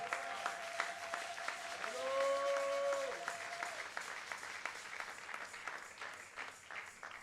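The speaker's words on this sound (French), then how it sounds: "Acclame Jésus, acclame Jésus." Congregation at a church service applauding, a steady patter of many hands clapping at a distance, with a sustained tone and a voice briefly heard through it.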